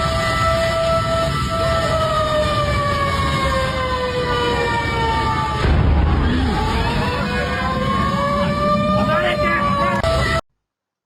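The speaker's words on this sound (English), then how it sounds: "the sound of whispers and fire truck sirens added to the intense atmosphere" Several wailing fire truck sirens rise and fall over a rumbling background, overlapping as the vehicles pass nearby, ending abruptly.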